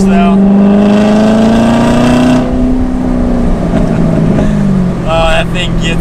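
Engine of a 2019 Chevrolet Corvette ZR1 pulling hard through the gears, a loud, close droning exhaust tone rising in pitch, dipping at each shift, then climbing again.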